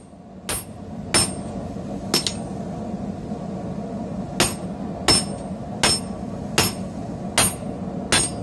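A bevel chisel is struck with a hammer to slit a hammer eye. About nine sharp, ringing metallic blows land at irregular intervals over a steady low background hum, close and loud.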